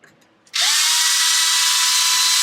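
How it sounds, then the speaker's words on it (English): A power drill with a bit fitted, used while working on a Traxxas XO-1 RC car, starts after a brief quiet moment and then runs at a steady high-pitched whine, loud and close, with no talking. "So we're gonna take our drill bit here."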